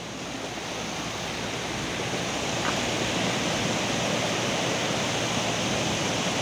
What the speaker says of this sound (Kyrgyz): Могу кар эрип, жолду жууп кетмей болду мына.